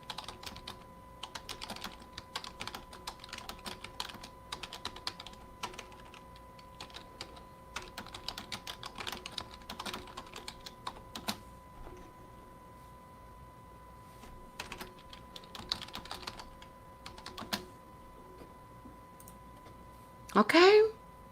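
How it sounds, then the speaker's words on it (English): Rapid, continuous clicking of fast typing on a computer keyboard, close and steady for about twenty seconds, ending with a short sharp noise. "So most of you don't even have that kind of typing skill. And that was slow for me."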